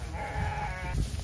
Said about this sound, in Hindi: अभी जनाब ये एक बकरा आपको दिखाना है